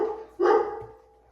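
A single short dog bark, close and fairly loud, followed by a brief fading tail.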